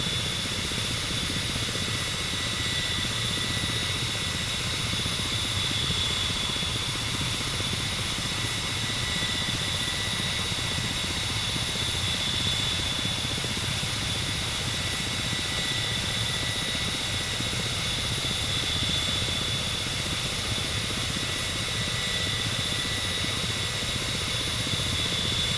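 Ka-50 helicopter in the DCS flight simulator hovering, a continuous loud engine whine and rotor drone with steady tonal hum and no change in intensity, no voices over it.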